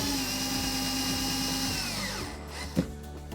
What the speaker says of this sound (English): I'm just going to tighten the screws up